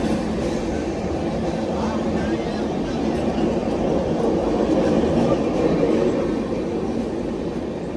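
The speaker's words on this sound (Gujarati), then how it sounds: "કારણ કે લોકલ ટ્રેન છે" A Mumbai local train rolls along with a steady, loud rumbling roar and faint rhythmic wheel clatter, heard from inside a crowded carriage with voices talking underneath.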